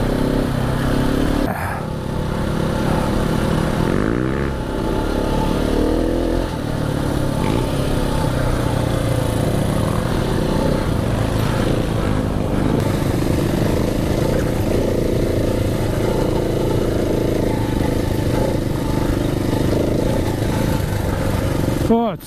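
A KTM 690 Enduro motorcycle's single-cylinder engine revs and pulls hard while riding off-road on slippery ground, a continuous loud rumble rising and falling with throttle, with voices talking over it.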